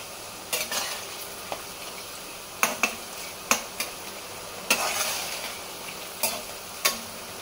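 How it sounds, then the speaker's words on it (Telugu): Sliced bitter gourd fries in a pan with a soft continuous sizzle, broken by sharp clinks and scrapes of a spoon stirring at irregular intervals, close and with no talking. "బ్రౌన్ కలర్ వచ్చే వరకు మనం ఫ్రై చేసుకోవాలి"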